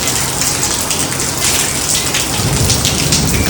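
Heavy rain pours steadily in a dense hiss, with low rumbles of thunder rolling beneath it.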